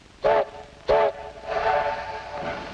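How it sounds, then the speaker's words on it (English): A 1950s train whistle sounds in two short sharp blasts, then a longer, softer, wavering blast, with faint rail rumble underneath and no talking. "That must be our train."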